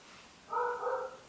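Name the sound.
dog barking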